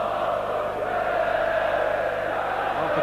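Leeds United supporters singing behind the goal at Barnsley in 1982 make a continuous, far-off wash of chanting voices that holds at an even level for a few seconds, with no talk on top.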